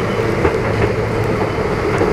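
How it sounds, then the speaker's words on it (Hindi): A train passing slowly through Danapur station, heard from onboard as a steady loud rumble with faint rhythmic wheel clicks and no talk. "और दानापुर स्टेशन को भी हमारी ट्रेन बहुत ही स्लो स्पीड में स्किप की।"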